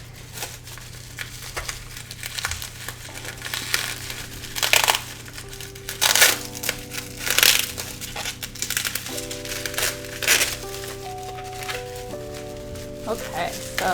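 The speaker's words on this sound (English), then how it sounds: "So let me see if I can get this open." A taped package of Hobonichi planners is worked open with crinkling, tearing and rustling bursts of plastic and tape, close by, under steady talk with a constant background hum.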